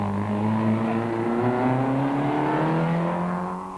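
Rally cars at the 2005 Sasol Rally race past spectators close to the road, a loud sustained engine roar with rising and falling pitch as a car screams by, fading slightly at the end.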